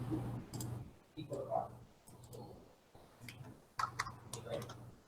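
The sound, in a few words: typing on a computer keyboard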